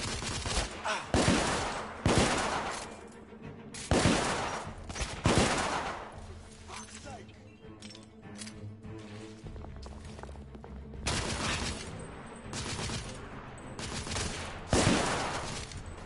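Sidearm gunfire in the video game The Order 1886 comes as repeated loud, sharp shots in quick bursts and double taps, set against a steady game soundscape with footsteps and rumble, and a voice at times underneath.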